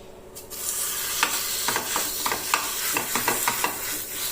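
Mashed potato is stirred into a frying mixture in a pan, with a steady background sizzle and a run of close, regular scraping strokes from a spatula.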